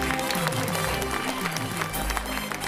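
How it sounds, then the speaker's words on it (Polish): Dense, steady applause fills a sports gala hall, loud and continuous for the whole stretch, with a faint tonal layer low underneath. "Wielkie brawa, Marta."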